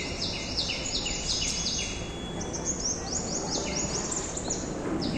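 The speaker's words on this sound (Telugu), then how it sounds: "బర్డ్స్ అరుపులు మీకు వినిపిస్తుంటాయి" Birds calling near a bird feeder, a run of high thin chirps and repeated whistled notes close by, sounding alone over a steady background hiss.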